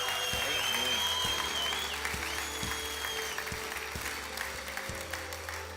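A church congregation breaks into sustained applause and cheering, loud and steady throughout, with rhythmic low thumps underneath and brief whistles or voices rising above the clapping.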